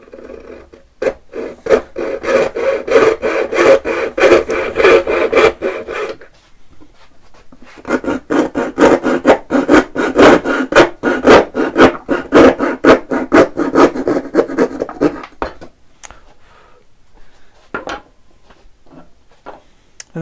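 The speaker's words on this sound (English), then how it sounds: "now that I've cut down the edges, I'll just take the rest out with my file" A file rasps a notch into a cigar box for a guitar neck. The strokes are steady and rhythmic, in two long close runs separated by a short pause, then a few scattered scrapes.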